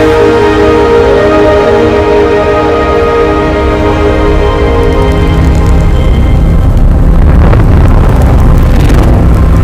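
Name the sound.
gravitational wave sound of black holes ringing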